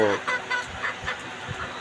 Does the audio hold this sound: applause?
no